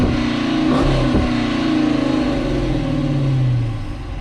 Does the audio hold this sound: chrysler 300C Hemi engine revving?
yes